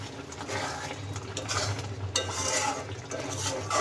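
A spoon stirs fish curry in a pan, making soft repeated scrapes and light clinks over a faint simmer, close and fairly quiet, with no speech.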